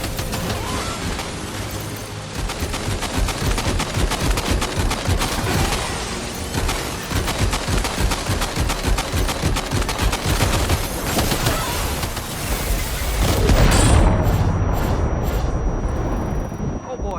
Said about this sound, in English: The Magellan's main cannon is online and ready to provide fire